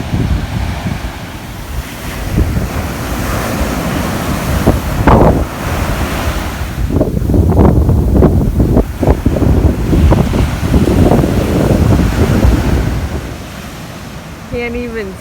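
Ocean waves surging onto an empty beach at Galão d'Vila, a steady roar of surf with wind buffeting the microphone, and a few voices speaking briefly near the end.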